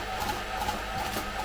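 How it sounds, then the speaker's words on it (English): A Ninja mixer with a single whisk beats cream to soft peaks, a steady close mechanical whir with no pauses through the short stretch. "So we'll whisk this to soft peaks and get it in the cake."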